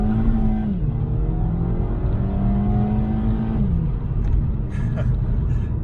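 A Mk5 Volkswagen Golf GTI with DSG gearbox drones loudly and climbs in pitch as it accelerates hard, with a gear change partway through and the rise resuming.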